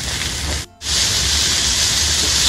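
Eggplant seasoned with salt and turmeric fries in hot oil in a kadai, giving a loud, steady sizzling hiss that briefly drops out before resuming.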